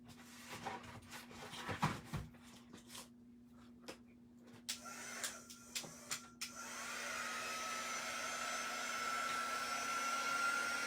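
Hair dryer blowing steadily to dry small objects on a desk, a continuous airy whir that starts faint and broken by clicks and handling knocks, then runs loud and unbroken through the second half.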